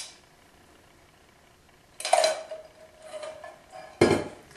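Egg, sugar and chocolate mixture being stirred in a bowl, quiet at first, then two bursts of utensil scraping and clinking against the bowl.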